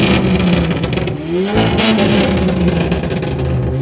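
A six-cylinder car engine revs hard through its exhaust at a car meet in Letňany, a loud, close roar with rising and falling pitch and a brief dip before climbing again.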